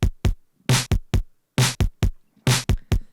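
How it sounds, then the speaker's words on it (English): A simple drum beat programmed on a 404 sampler with Oberheim drum samples: crisp, dry kick and snare hits in a steady, sparse repeating pattern, played alone with clean silence between strikes. "a really simple beat on the 404 that I made, and maybe with some Oberheim drum samples"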